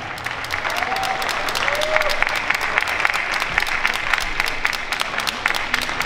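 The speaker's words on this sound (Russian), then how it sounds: "Уважаемые зрители, ваши аплодисменты." Spectators applaud a dance couple at a ProAm Latin dance competition at the Minsk Open Dance Festival, a sustained dense clapping from a large hall audience, steady throughout with a few faint tonal squeaks.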